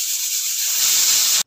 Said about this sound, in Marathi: कुकर गॅसवर ठेवून याला केवळ 1च शिट्टी होऊ द्यायची।